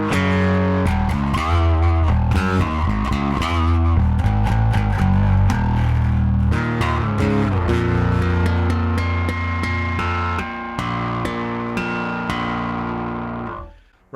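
Electric guitar runs through a distortion pedal on a pedalboard with a Suncoast BC3XL and a One Control Caiman Tail loop switcher, playing driven chords and single notes with a thick, saturated tone. The last chord rings out and fades.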